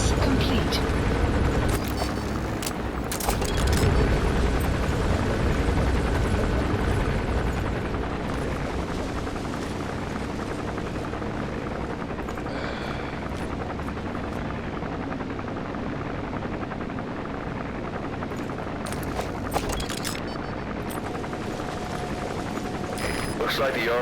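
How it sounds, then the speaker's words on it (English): A helicopter patrols overhead in the video game Metal Gear Solid V, its steady rotor drone running throughout, mixed with sharp bursts and game effects, while voices talk over it. "Looks like the arms dealer's chopper is gonna patrol for the security forces."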